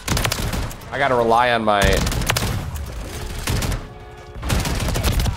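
Rapid weapon fire in Modern Warfare 3, loud bursts of shots close up, mixed with a voice talking over the gunfire.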